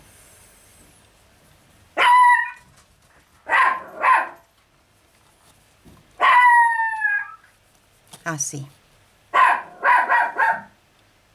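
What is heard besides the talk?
small dog barking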